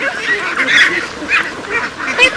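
Several ducks quack in a busy, overlapping chorus while being fed snails, the calls close and repeating unevenly over a steady outdoor background.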